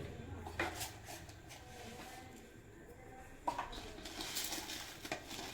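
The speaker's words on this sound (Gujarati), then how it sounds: "આવી રીતે બધું વ્યવસ્થિત એક ત્રાસની અંદર મિક્સ કરી નાખવાનું છે" Flour and spices with ajwain being mixed by hand on a plate for paratha dough, giving soft rustling and scraping with a couple of sharper clinks, close and fairly quiet with no talking.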